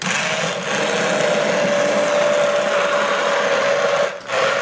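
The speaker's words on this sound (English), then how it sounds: "After I did that with the stick blender" A handheld stick blender whirs steadily through a pot of plant-based black bean soup, a loud continuous motor whine with a strong sustained tone that dips briefly twice as the blade shifts, with no talking.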